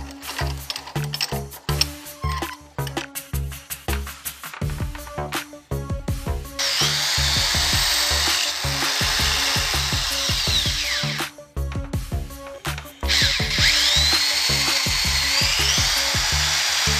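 A power drill bores holes in a homemade jig, with repeated short whirring bursts at first, then long sustained high-pitched drilling close by, broken by brief pauses.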